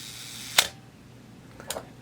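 A Minolta SR-T 101 film SLR camera fires its shutter at a one-second speed: a sharp mechanical snap opens it and a softer click closes it about a second later, close and clear in a quiet room.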